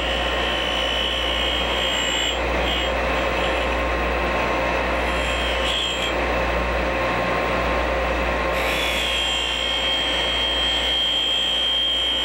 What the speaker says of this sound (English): you would simply feed the grinding wheel in